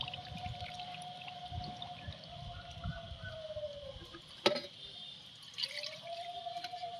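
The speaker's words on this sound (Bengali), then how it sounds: "দেখো জলটা কিন্তু আমি ভাসিয়ে দিচ্ছি প্রথম জলটা" Water poured from a container into a large pot holding a hibiscus plant, with soft continuous trickling and dripping close by, a brief splashy knock midway, then the pouring resumes.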